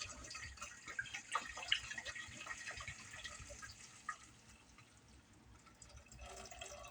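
About six cups of water for potato soup pour in a home kitchen, a faint, uneven running and splashing with a few drips, quiet and steady throughout.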